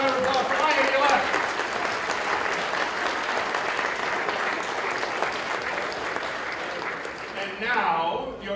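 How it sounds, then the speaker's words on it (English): Loud, sustained applause from the audience at a school state-finals awards ceremony, many hands clapping steadily for several seconds, with talk rising near the end. "one more round of applause for Ryan"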